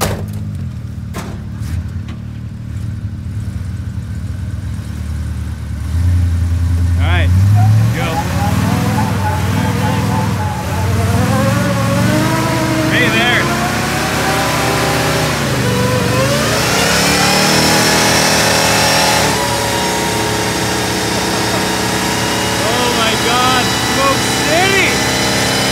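A 1977 Ford F350 truck engine revs hard during a double burnout, a loud, close, sustained roar that climbs and falls in pitch through repeated rev surges.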